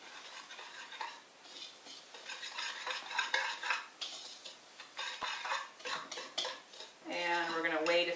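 Buttermilk pancake batter with baking soda and baking powder is stirred in a bowl, producing close, continuous clinks and scrapes of a utensil against the bowl, with a brief clattering burst near the end.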